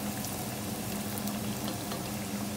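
Handmade sopes fry in a generous pool of hot oil, giving a steady, dense bubbling hiss that stays even and close throughout, with a faint low hum underneath.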